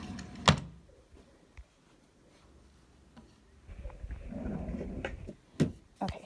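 A nursery dresser drawer slides open with a soft wooden rumble and a couple of light knocks, close and fairly quiet, with no talking.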